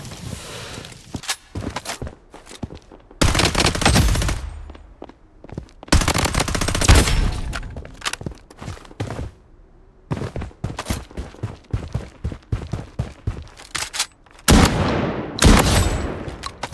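Automatic gunfire in the shooter game Blood Strike, in repeated loud bursts of rapid shots separated by short pauses, with footsteps and lighter shots in between.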